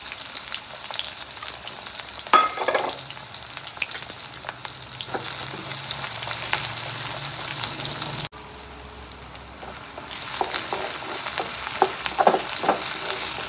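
Onions frying with carrots in a pan for a mutton curry, a loud, steady sizzle with crackling pops and occasional stirring scrapes, continuous throughout with no one talking.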